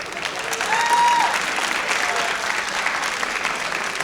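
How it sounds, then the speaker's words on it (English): Steady, full applause from a high school audience for the student actors at a responsible-driving assembly, a continuous wash of many hands clapping at an even level throughout. "Can we give another warm round of applause for our actors?"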